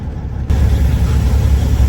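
A train locomotive idles near railroad tracks by a warehouse, a steady loud low rumble that swells slightly and then holds constant, with no talking over it.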